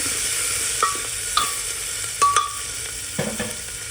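Onion fries with cumin and asafoetida in a pan, giving a steady close sizzle punctuated by a few distinct clinks and scrapes as it is stirred, with no voices.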